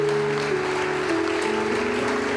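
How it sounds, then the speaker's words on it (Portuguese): Church congregation clapping in praise, a continuous wash of applause under sustained musical tones from the service. "Uma salva de palmas ao Senhor."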